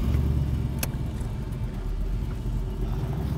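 A 1968 Chevrolet Camaro SS being driven onto a trailer, its engine giving a steady, deep low rumble at close range for a few seconds.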